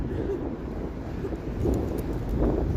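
Wind rises on a cold Toronto city street in late November, a loud, steady rumbling gust buffeting the microphone and swelling toward the end.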